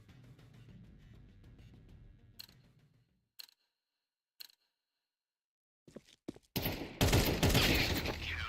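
A video game gunfire exchange: rattling shots at first, then a few isolated sharp cracks with silence between, ending in a loud, dense burst of firing up close.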